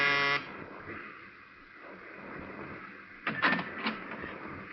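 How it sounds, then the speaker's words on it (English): A harsh electric door buzzer sounds briefly at the start and cuts off, followed by quiet room noise and a few short clattering sounds. "but I pushed the buzzer anyway."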